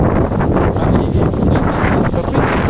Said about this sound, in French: je parle fort parce que s'il y a le vent